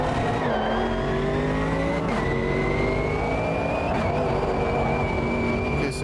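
A Mercedes-AMG GT3 Evo race car engine drones steadily at high revs around Silverstone in a racing simulator, with the pitch shifting through gear changes and faint tyre squeal, loud and continuous throughout with no speech.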